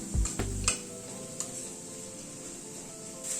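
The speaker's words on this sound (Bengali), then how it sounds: "পেঁয়াজ, আদা, রসুন, কাঁচা লঙ্কা সবকিছু আবারও একটুখানি মিনিট খানেক নাড়াচাড়া করে নিলাম" Chopped onion, ginger, garlic and green chili sizzle softly in a pan while being stirred, with a few sharp scraping knocks at the start and a low, steady frying hiss afterward.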